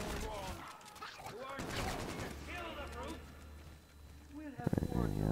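Rapid automatic gunfire in the video game Infinite Warfare Zombies, with bursts of shots fired under a speaking voice and game sounds, ending in a loud final volley.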